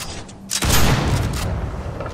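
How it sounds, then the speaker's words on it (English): Explosive barrels going off in a video game: a sharp, loud blast about halfway through, followed by a sustained roaring rumble that stays heavy until the end. "Those are the exploding barrels."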